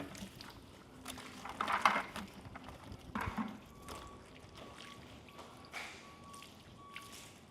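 Water rinsing coating off a test panel, a faint close splashing and trickling with soft drips and a brief louder gush, over low background noise.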